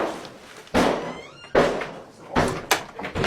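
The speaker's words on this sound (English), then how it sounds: "Next door, the officers have forced entry to one of the bedrooms." Police officers forcing entry through a bedroom door during a UK immigration raid: a series of heavy thuds and bangs against the door, four or five sharp impacts with short pauses between, close by, no speech.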